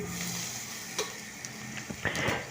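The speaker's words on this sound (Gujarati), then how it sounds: "હવે આપણે તેને જરા 4-5 સેકન્ડ ચલાવી" Ginger, chilli and mixed vegetables sizzle in a hot pan on a low flame, a steady close hiss broken by a few scraping stirs and light clicks near the end.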